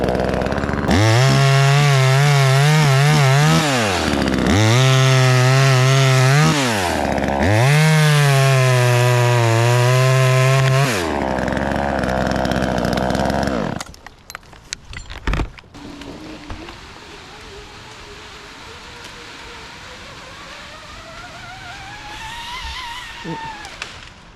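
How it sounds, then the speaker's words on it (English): A $135 chainsaw roars loudly in several revving bursts as it cuts through cottonwood, then stops, leaving quieter outdoor noise and a faint engine whine. "chainsaw."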